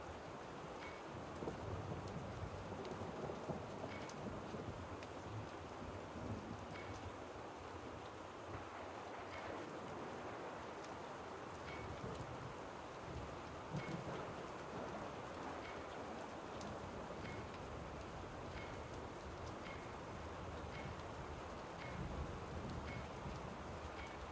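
Steady, dense rainfall hisses continuously with low rolling thunder rumbling underneath, a constant wet wash without pauses, from the video game Rue Valley.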